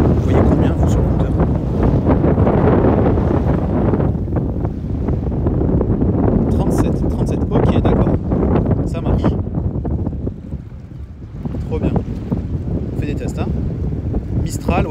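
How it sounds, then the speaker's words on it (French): Mistral wind buffets a microphone at the beach, a loud, continuous roaring rumble with gusts that ease briefly before swelling again, while people talk. "Ouais, il y a le Mistral."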